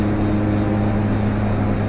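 Twin turboprop engines of a DHC-6 Twin Otter in Flight Simulator X, a loud steady droning hum with strong low tonal bands, throttled back and holding even throughout.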